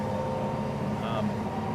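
A steady, low engine drone runs throughout at an even pitch, a heavy motor laboring slowly without revving up or down.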